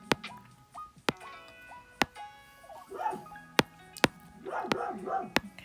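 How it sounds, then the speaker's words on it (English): A dog barks in the background in short, separated yips and barks spread through the span, mixed with sharp ticking clicks and tonal beeps, with nobody speaking. "sorry if you can hear my dog barking"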